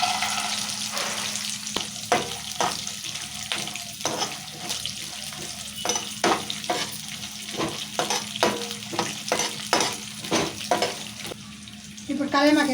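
Peanuts and green chillies frying in oil, a continuous sizzle broken by a regular series of sharp scraping and stirring strokes, with faint voice in the background.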